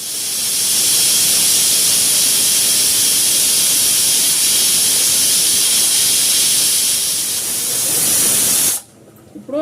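Pressure cooker on a stove cooking goat head curry with raw mango, blasting a loud, sustained hiss of escaping steam for about nine seconds before it cuts off abruptly into quiet.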